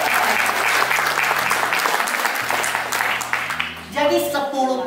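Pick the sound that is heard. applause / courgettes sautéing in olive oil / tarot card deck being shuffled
applause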